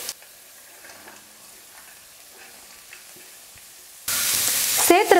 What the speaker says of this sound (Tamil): இப்போ எடுத்துருக்கிற காய்கறிகளை சேர்த்துடுறேன்.